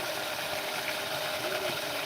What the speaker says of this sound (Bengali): মটর দিয়ে পুকুরে পানি দেওয়া দেখছি